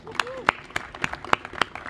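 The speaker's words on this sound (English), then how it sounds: "So I want to give you guys a big round of applause" Scattered hand claps break out from an audience at a ribbon-cutting ceremony for a mixed-use development, a brief, sparse burst of clapping.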